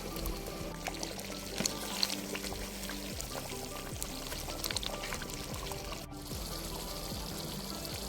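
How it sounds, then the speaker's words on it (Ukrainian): Water poured steadily into a pot of stewing meat for a Transcarpathian bograch, a continuous close pour and trickle running the whole stretch alone without talk. "Якщо вам не вистачає трішки рідини, можна покрити м'ясо, просто доливши невелику кількість води."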